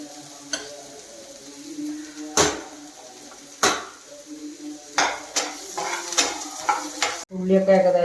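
Onions sizzle steadily in a pan on a home stove while a utensil scrapes and stirs through them, with a few louder clanks against the pan.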